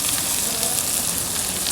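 Onion sizzles in hot oil in a pan, a steady bright crackling hiss without pause.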